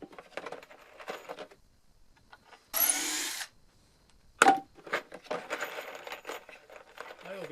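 A power drill bores a hole into the wooden board of a sidewalk platform in one short, sharp burst, followed by a brief knock and quiet handling noises in a fairly hushed setting.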